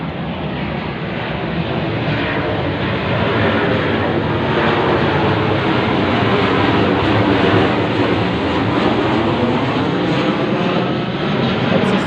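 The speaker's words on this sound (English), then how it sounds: "Small plane straight over my head at this late time." A small plane passes overhead late at night, a steady, loud broadband engine roar that holds constant for the whole stretch with no voices.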